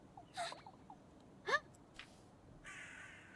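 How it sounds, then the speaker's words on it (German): Several crows caw in the video game Little Goody Two Shoes, a few short harsh calls spread out and moderately close, over a quiet, hissy background. "Oh, there are so many crows."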